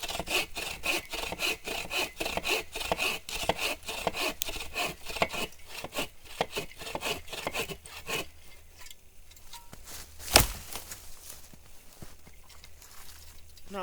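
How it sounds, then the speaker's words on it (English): A hand saw cuts firewood at a snowy winter camp, with steady back-and-forth strokes close by for about eight seconds before stopping, followed by quieter handling and one sharp knock. "get some firewood processed"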